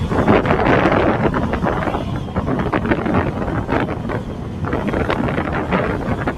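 A motorbike cruising at 60 in third gear, with steady loud wind buffeting the microphone and engine rumble blending into a continuous roar; no talking.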